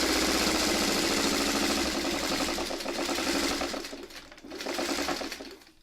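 A sewing machine stitches across a quilted placemat with a rapid mechanical chatter, running steadily and then slowing and dipping briefly before picking up again.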